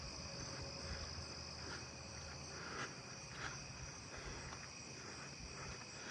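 Narrow-winged tree crickets trill steadily at night in a neighbourhood, a faint, continuous high-pitched chirping from insects at some distance with no other sounds.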